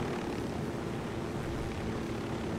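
Helicopter in the video game Ghost Recon, a steady, droning engine and rotor roar that holds at an even level throughout, with no talking over it.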